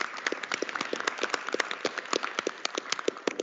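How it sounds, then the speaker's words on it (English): A round of applause at a board of regents meeting honoring Damon, with dense, steady clapping from a group that holds through the whole short stretch at moderate loudness. "Round of applause for Damon."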